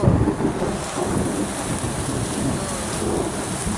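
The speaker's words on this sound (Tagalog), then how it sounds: "Grabing lakas po ng ulan." Heavy rain pours down in a dense, steady hiss, constant and loud with no voices, a low rumble underneath.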